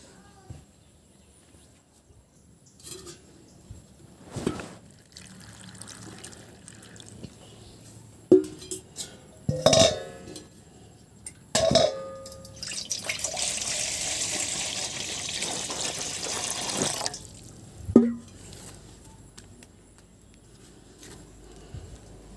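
Vegetables being rinsed by hand in water outdoors in a village, with scattered splashes and sloshing, then a steady pouring trickle for several seconds and a final splash.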